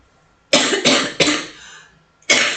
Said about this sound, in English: this cough sounds horrendous, doesn't it?